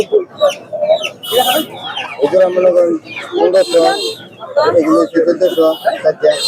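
Native chickens cluck and squawk in busy bursts at the Golakandail village poultry market, near and loud, with people talking over and between the calls.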